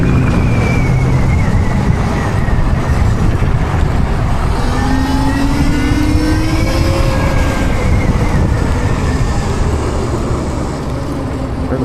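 Steady, loud road traffic rumbles continuously, with car engines droning and rising in pitch as vehicles pass close by, heard from a bicycle ride on a busy street.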